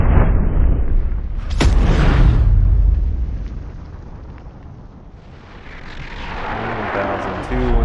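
A single loud, sharp crack from a black powder gun shot, a supersonic boom, with a long rumbling tail fading over several seconds outdoors; wind buffets the microphone.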